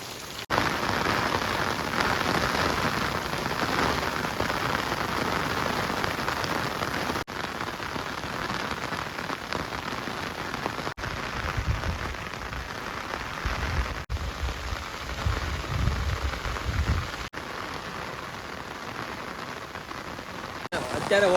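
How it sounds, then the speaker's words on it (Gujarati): Heavy rain pours steadily on a farming village with fields, a dense, continuous hiss of drops on surfaces from start to finish, with occasional faint voices underneath. "અત્યારે વરસાદ બરાબરનો ચાલુ છે ને ક્યારનો વરસાદ આવે છે"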